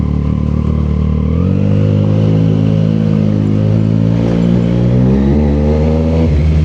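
Triumph Street Triple Moto2 Edition motorcycle being ridden, its engine humming loud and close in a steady drone that climbs smoothly in pitch as it accelerates, then drops near the end.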